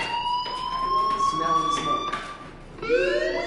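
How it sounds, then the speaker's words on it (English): A fire alarm rings with a steady, piercing electronic tone that holds and then shifts pitch near the end, loud and continuous, with a voice partly over it. "Hey, do you hear that fire alarm?"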